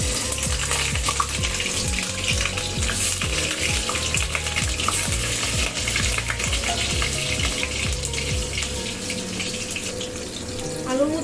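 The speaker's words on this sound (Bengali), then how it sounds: "আলুগুলো ভেজে নেব।" Potatoes fry in hot oil in a kadai for a dhaba-style egg curry, giving a loud, unbroken sizzling hiss up close, with a low rumbling hum running beneath it.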